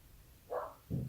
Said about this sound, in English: Now you can hear my dogs barking outside.